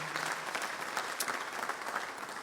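A church congregation claps together during a service, a brief burst of dense, even applause heard close and steady.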